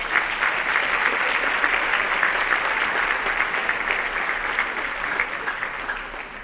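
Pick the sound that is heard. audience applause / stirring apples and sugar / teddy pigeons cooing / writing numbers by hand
audience applause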